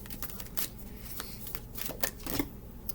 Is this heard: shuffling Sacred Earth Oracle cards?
yes